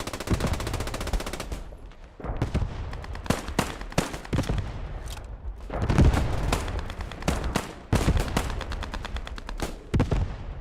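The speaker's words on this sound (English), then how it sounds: "The artillery, actually defenders artillery that has been called in here, gets the kill on Hee and Law" Heavy gunfire and shell impacts in the World War II shooter Post Scriptum during a clan match, rapid bursts and loud booming blasts crowding one another at close range, with short lulls between volleys.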